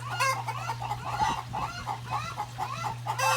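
Several chickens clucking at close range in a back yard, overlapping irregular calls with a steady low hum underneath and no talking.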